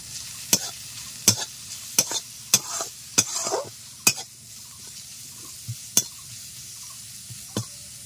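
Onions and nigella seeds sizzle and fry in a pan while a spatula scrapes and clicks against the metal in sharp, regular strokes over a steady hiss.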